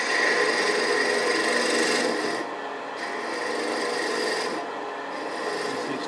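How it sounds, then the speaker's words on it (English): Wood turning on a lathe with a 3/8 inch detail spindle gouge while shaping beads on a finial for an ornament: a steady, close, loud scraping rasp that dips briefly twice, with no talking. "Switching to a 3/8 inch detail spindle gouge."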